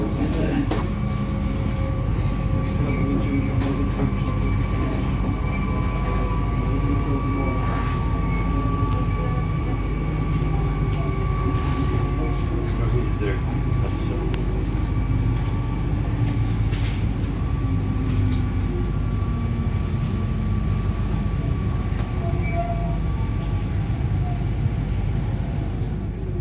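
An Amsterdam metro train on line 52, the North-South line, runs steadily along the rails, a constant low rumble with faint squeals and clicks of wheels throughout.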